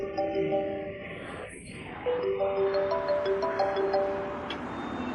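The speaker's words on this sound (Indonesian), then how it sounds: "HP-nya bunyi, bentar." A mobile phone ringtone plays as a repeating melodic electronic tune, loud and close, with a brief rustle partway through, in an indoor drama scene.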